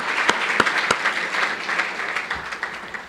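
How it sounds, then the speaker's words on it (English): Audience applause fills a tribute event honoring everyday heroes, a dense, steady clatter of many hands with a few sharper claps standing out, fairly loud and close, with no talk over it. "You're not done clapping yet."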